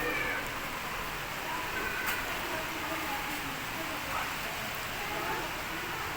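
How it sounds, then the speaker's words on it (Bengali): Heavy storm rain in Gazipur falls as a steady, dense hiss at moderate loudness with faint scattered drips, continuous and even throughout, with no clear voices. "ভালো ঝড় বৃষ্টি হচ্ছে।"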